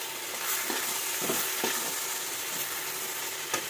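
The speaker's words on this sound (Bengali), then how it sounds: "মশলাটা ভালো করে মিশিয়ে নিয়ে মশলাটা একদম ভাজা ভাজা হয়ে গেছে" Spice masala fries in a pan for a chana dish, a continuous bright hiss with occasional soft stirring knocks throughout, moderately loud and without talk.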